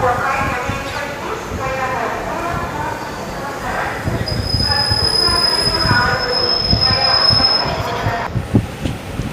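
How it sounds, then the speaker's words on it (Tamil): A train rumbles along with loud squealing wheels and high metallic screeches, continuous and close, with faint voices mixed in, as it pulls out of Madurai station. "ட்ரெயின் கிளம்பிடுச்சு"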